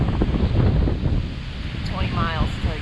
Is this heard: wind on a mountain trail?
yes